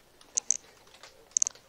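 Typing and clicking on a new computer keyboard and mouse during a Minecraft session: quick bursts of crisp key clicks, a small cluster early and another near the end, close and fairly quiet with no talk.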